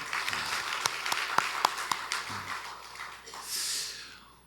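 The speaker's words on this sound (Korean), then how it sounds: "한번 뜨겁게 박수 한번 쳐드릴까요?" Church congregation applause during an afternoon sermon, scattered distinct claps from a smallish group at moderate distance, building briefly then fading out.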